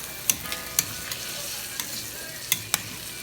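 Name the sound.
vegetable stir fry being stirred and sizzling in a pan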